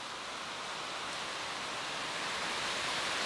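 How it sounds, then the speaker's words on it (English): A rain shower beginning outside a garage, a steady broadband hiss of falling rain that holds even and slowly swells slightly louder. "And now the rain starts."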